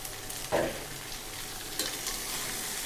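Vegetables sauté in a pan with a soft, continuous sizzle, broken by two louder scraping stirs of a utensil against the pan, close and fairly quiet.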